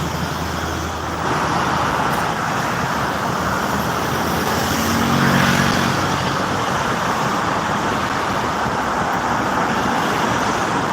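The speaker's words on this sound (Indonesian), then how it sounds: "Banyak dam truk." Dump trucks and other traffic on the Jakarta–Cikampek toll road produce a continuous, dense roar. A heavier engine swells briefly in the middle.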